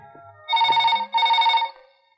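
A telephone rings twice in quick succession, a loud electronic bell tone in two bursts, then fades out with no talking.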